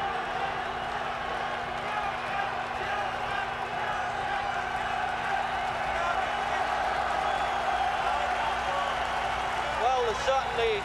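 A large boxing crowd cheers Jurgen Blin at his bout against Muhammad Ali, a steady, dense roar of voices and whoops that holds at an even level throughout, with no break or lull.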